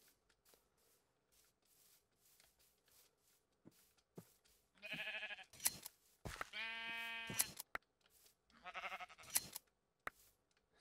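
Minecraft sheep bleating in a few short, wavering bleats against near silence, with faint soft shuffling sounds between them and no talking.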